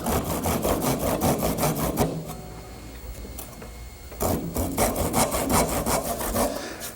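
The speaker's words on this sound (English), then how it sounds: "I'm going to take a handsaw and make a slight cut at an angle" Handsaw cutting into pine at an angle in a woodshop, with steady rapid back-and-forth strokes that are close and loud, pausing for about two seconds midway before the sawing resumes.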